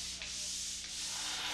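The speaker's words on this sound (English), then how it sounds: "traditional pole sanding" Drywall being sanded with a pole sander, a continuous close scratchy hiss with soft stroke pulses about every half second, no talking.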